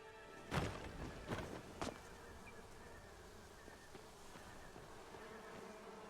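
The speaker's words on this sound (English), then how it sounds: "Do you guys hear buzzing?" Buzzing insect in the video game Burglin' Gnomes, a faint thin drone running steadily through the background after a few soft thumps at the start, with no one talking.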